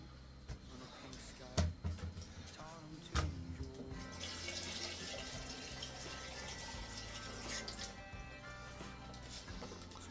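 A tap runs water into a sink in a kitchen with cabinets, a steady rushing hiss that swells after a couple of thuds and continues evenly, fairly close.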